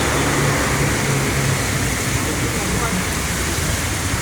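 Heavy rain pours steadily in Cisarua outside a hotel, a dense, loud hiss filling the whole scene, with the low rumble of buses passing on the road beneath it and a voice speaking over the downpour.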